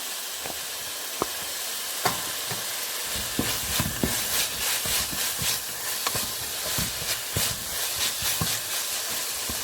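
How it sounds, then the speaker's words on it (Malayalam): Chopped garlic dropped into a hot pan with onions for minced beef keema, sizzling and crackling steadily with scattered sharp spatula scrapes and taps, close and fairly loud, no voices. "ഇനി നമുക്ക് ഇതിലോട്ട് വെളുത്തുള്ളി അരിഞ്ഞു വെച്ചിരിക്കുന്ന ഇട്ട് കൊടുക്കാം."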